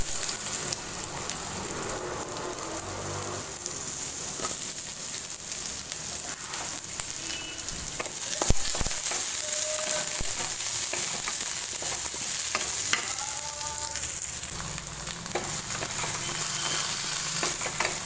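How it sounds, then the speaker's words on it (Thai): Raw, unboiled potatoes stir-fried in a pan for an Indian vegetarian aloo baingan curry, a steady close frying hiss with intermittent clinks and scrapes of a spatula against the pan, no voices. "เราจะผัดมันฝรั่งให้ เกือบสุกเลยนะคะ"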